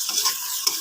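Taro pieces sizzle briefly while being stir-fried in a pan at home, a short bright hiss with light scraping from stirring, close and without talk.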